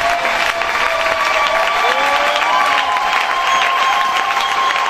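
A church congregation bursts into sustained, dense applause and cheering for their pastor, a loud, steady wash of clapping and crowd voices filling the whole stretch without a break.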